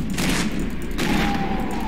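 Shotgun blasts in the shooter video game Fear 2, two heavy booming shots about a second apart, loud and close, with a thin tonal ring trailing after the second.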